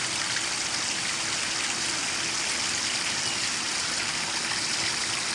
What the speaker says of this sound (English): This is just a large water feature that I did. It's a koi pond.